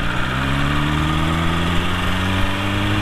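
A BMW S1000RR motorcycle engine runs with a steady, loud, even drone and a slowly shifting pitch throughout, with no talking.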